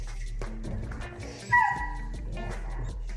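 A puppy in protection training with a rag yips and whimpers excitedly, giving short barks and a high whining cry among rustling and movement close by, over a low steady hum.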